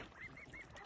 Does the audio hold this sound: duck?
yes